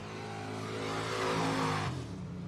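A race car engine revs at Texana Raceway Park during hot laps, a droning mid-pitched roar that swells and then drops off sharply, heard from a moderate distance with no talking.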